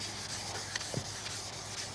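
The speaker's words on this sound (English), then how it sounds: "we're just going to give it a good sanding all the way around" Steady, soft rubbing of sandpaper on primer over a motorcycle fuel tank, a continuous hissy scrape with a few faint taps, close by.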